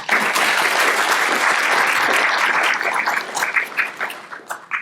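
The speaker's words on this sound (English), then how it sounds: "Another round of applause for Dr. Lieberman." An audience at a microbiome scientific conference session claps after a talk, loud and dense at first, then thinning into scattered claps that fade over the final two seconds.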